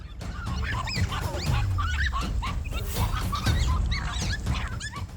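Dogs confronting a lizard give a run of high, wavering whimpers and yelping barks, near and fairly loud, overlapping one another over a rough, noisy outdoor background.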